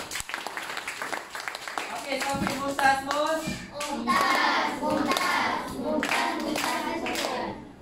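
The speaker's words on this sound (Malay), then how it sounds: "Okey, tepuk tangan untuk Mus." A class of Year 6 children claps together for a classmate during a funeral prayer lesson, a brisk ragged patter of many small hands close by, running under a teacher's voice and children's chatter.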